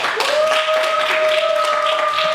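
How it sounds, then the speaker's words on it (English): Steady crowd applause, bright and continuous, with a sustained electronic tone ringing through it. "But one more applause for these folks that did all of that."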